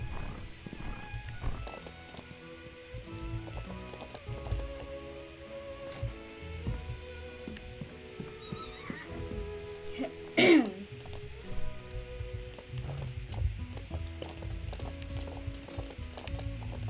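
Horse hooves clip-clop in the Ranch of Rivershine video game, a steady clopping rhythm under a busy layer of game music and ambience.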